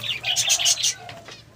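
Quail and a parrot stir inside an aviary, giving a burst of rapid wing flapping and fluttering up close, followed by fainter rustling and a few soft chirps.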